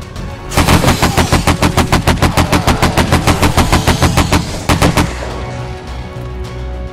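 Rapid automatic AK-47 fire in the survival game 7 Days To Die, a long loud burst of evenly spaced shots followed by a final few rounds and a fading tail.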